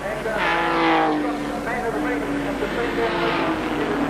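Touring race cars at Symmons Plains in the 1985 Australian Touring Car Championship: engines rising and falling in pitch as cars pass, a sustained mid-distance roar under continuous commentary.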